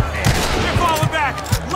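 Gunfire in the wartime opening chapter of the Mafia 2 video game, several sharp shots in quick succession close by, mixed with shouting voices and game sound effects.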